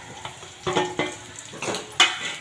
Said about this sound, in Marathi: आता आपण जे परतून घेतलेले बटाटे आहेत ते त्याच्यामध्ये टाकून घेऊया